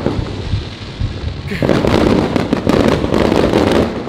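Fourth of July fireworks explode at SeaWorld Orlando, a few soft distant pops, then a loud dense barrage of crackling bursts that fades at the end.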